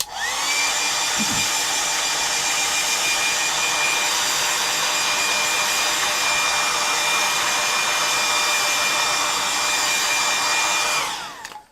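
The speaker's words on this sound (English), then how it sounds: "So now I'm going to get my hairdryer, which is going to make a noise." A nearly 40-year-old hairdryer blows at a steady, loud roar for nearly the whole stretch, then cuts off and winds down at the end.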